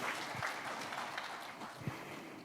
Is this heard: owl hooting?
no